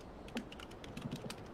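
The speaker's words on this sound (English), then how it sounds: "Furious typing." Fast, furious typing on a computer keyboard, a rapid irregular burst of close clicking keystrokes with no talk over it.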